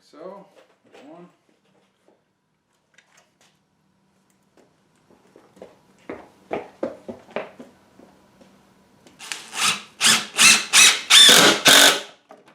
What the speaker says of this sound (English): I'm going to get two screws put down here first.